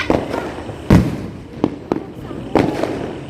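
Diwali firecrackers burst off to one side at a new-home celebration: several separate sharp cracks at irregular intervals, loud and close, with voices talking between the explosions.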